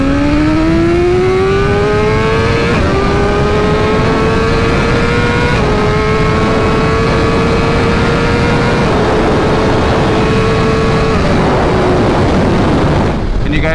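A 2023 BMW S1000RR motorcycle engine pulls hard and loud through several gear changes, its pitch climbing steadily with brief dips at each shift, a continuous near roar that cuts off at the end.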